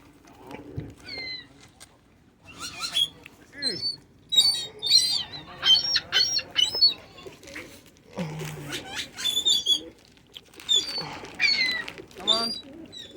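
Seagulls being fed at Lake Havasu, Arizona, give repeated sharp, squealing calls close by in overlapping irregular bursts.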